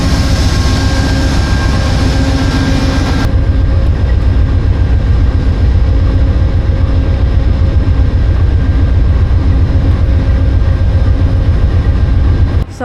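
A long sleeper train sits at a station with a loud, steady low engine rumble and hum, a higher whine dropping away after a few seconds; the heavy drone continues alone without voices.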